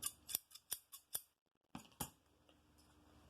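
Guggenheim shears snip sharply and close up, about six crisp metallic cuts in quick succession, a short pause, then two or three more, with nothing else heard.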